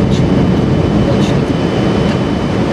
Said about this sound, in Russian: В Москву его доставлял самолет санавиации.